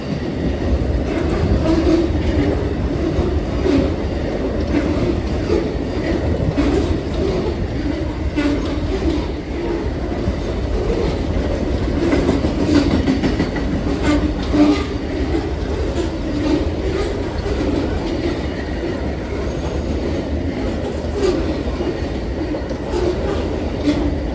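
A train rolls past continuously at close range, a loud rumbling drone with rhythmic clattering of wheels on the rails throughout.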